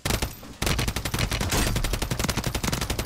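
Rapid automatic gunfire in Call of Duty: Warzone, coming from above, loud and close, a short pause then a sustained burst of quick repeated shots.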